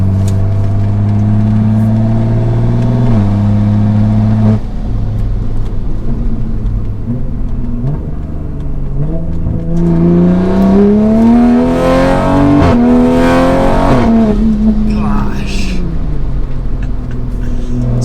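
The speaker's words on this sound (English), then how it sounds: "Yeah, the acceleration in the car is just nuts to drive" A 600 WHP wide-body Toyota Supra accelerates hard, its loud engine note climbing through rising revs with gear changes in between, close and with no talk over it.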